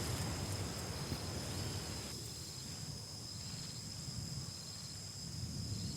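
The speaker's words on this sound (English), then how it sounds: "The crickets keep their steady rhythm beneath the grass." Crickets in a meadow chirp in a continuous high-pitched trill, steady and layered, over a soft background hush of outdoor night air.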